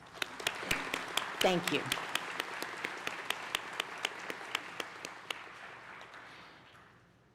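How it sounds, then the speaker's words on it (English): Applause for partners at a college graduation ceremony, a large hall of clapping that swells briefly under a short spoken thanks, then fades away with a few distinct claps ringing out until it dies down. "Please join me in giving our partners a round of applause."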